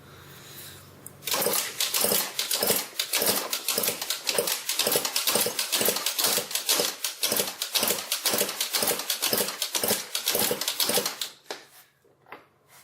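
A Yamaha Jog scooter engine cranks steadily during a compression test with the top end freshly rebuilt and the intake manifold open, giving a fast, even, rhythmic chugging for about ten seconds that stops abruptly, close and loud.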